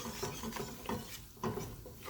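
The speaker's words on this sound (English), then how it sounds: "So you want to mix it around." A roux-based cream sauce stirred in a pot, soft scraping swishes repeating every half second or so, faint and close with no talk.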